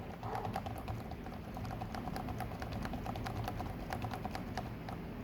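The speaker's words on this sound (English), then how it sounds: "this is me typing" Soft, rapid keystrokes on a Redragon Karura K502 silent gaming keyboard tap out a steady, dense patter over a constant background hiss, fairly close and alone.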